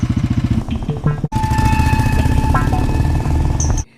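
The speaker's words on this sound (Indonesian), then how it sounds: "si Fanny pun berpindah dan melanjutkannya bersama dengan Sodi menggunakan motor" A motorcycle carrying two riders runs at a steady, close, loud drone with a rumbling low pulse, then briefly cuts out before resuming, with faint background noise.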